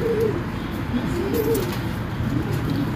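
Highflyer pigeons coo nearby in low, rolling, repeated calls over a steady background hum, with faint chirps mixed in.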